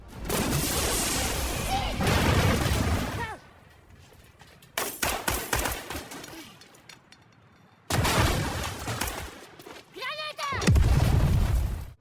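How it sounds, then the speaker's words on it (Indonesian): A gunfire shootout from the action film Extraction 2 brings loud bursts of shots and blasts in heavy stretches, broken by quieter passages. A voice talks over part of the scene. "Alhasil, baku tembak pun terjadi antara Yas dengan Samidi."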